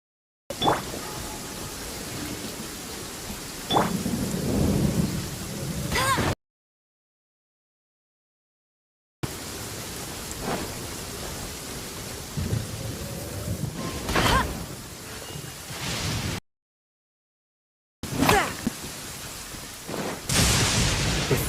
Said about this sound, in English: Before the resounding thunder.